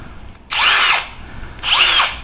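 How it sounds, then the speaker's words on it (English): A cordless battery-powered hammer drill with a clutch runs loud and close in two short bursts of whining motor spin, each about half a second, separated by a brief pause. "This is a battery and a hammer drill."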